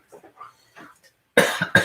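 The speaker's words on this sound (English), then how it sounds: "just took a shower, so now I'm going to be coughing." A person coughs several times at close range, a few light throat sounds followed by two loud, harsh coughs near the end.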